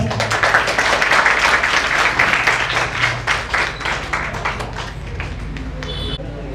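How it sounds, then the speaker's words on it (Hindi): An audience at a constitution general-knowledge quiz prize ceremony in Kanpur claps loudly to welcome a singer, a dense, sustained roar of applause that gradually thins and softens toward the end. "आप सभी लोग जोरदार तालियों से स्वागत"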